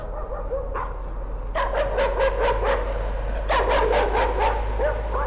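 Dog barking in the horror video game Layers of Fear: two bursts of repeated, fairly close barks and yips with short gaps, over a steady low background hum.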